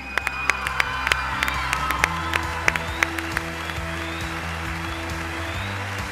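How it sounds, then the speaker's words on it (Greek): A studio audience on The Voice claps and cheers steadily, with sharp individual claps standing out over a sustained crowd noise and music at moderate distance. "Καλό χειροκρότημα παρακαλώ εδώ στο κορίτσι μου, Ζωζεφίν!"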